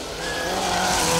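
A four-wheel-drive rally car at speed on a rough section of the Woodpecker Stages Rally, engine note rising as it approaches, with tyres scrabbling and skidding over loose ground as the sound grows steadily louder.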